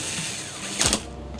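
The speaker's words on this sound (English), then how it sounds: "Put the screw back in." A screw is driven back into the back panel of a Haier 65UGX3500c 4K LED TV, giving one short, close ratcheting whir from a screwdriver over a quiet room.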